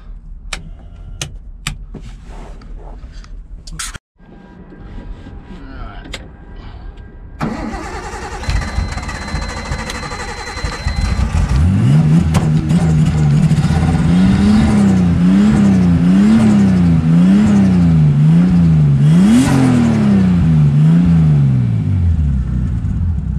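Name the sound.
drift car engine starting and revving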